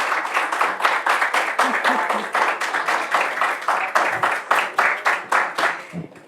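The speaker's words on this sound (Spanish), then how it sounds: "Recibamos con un fuerte aplauso a la doctora Yolanda Wood." An audience applauds steadily at an academic ceremony for a recognized scholar, a rhythmic burst of claps that continues for several seconds and then tapers off at the end.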